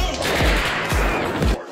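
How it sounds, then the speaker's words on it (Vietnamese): Gunfire in a school shooting scene from the film Run Hide Fight: a loud burst of several close gunshots in rapid succession, each with a heavy booming low end and crackling echo, with no speech. "Hiệu trưởng đi đến nhưng chưa kịp nói được mấy câu đã bị ăn vài viên đạn."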